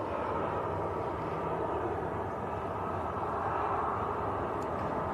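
An Emirates Airbus A380 flies past at Manchester Airport in the evening, its engines a steady, broad, full roar for the whole stretch.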